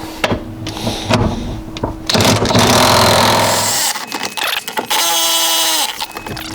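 Impact driver removing 18 mm seat bolts inside a Jeep Wrangler, with several short, loud buzzing bursts and rattling hammer action, separated by clanks and handling noise. A final whirring spin-down is heard near the end.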